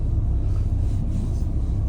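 A car passing along a quiet island road in winter in Scotland, a steady low engine and tyre rumble holding close and even throughout, with no voices.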